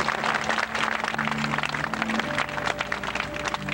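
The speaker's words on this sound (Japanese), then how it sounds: "拍手。" An outdoor audience claps at the 2000 Tsurugahama Summer Festival concert by the sea in Tsuruga. The applause is steady and moderately loud, with faint tones beneath it.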